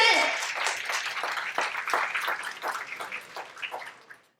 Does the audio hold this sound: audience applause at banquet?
yes